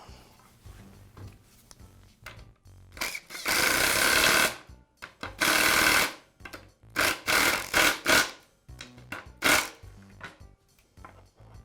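A bolt on the vise jaw bracket of a Black and Decker Workmate bench is secured with a power driver, heard as several close bursts of loud whirring between quieter pauses.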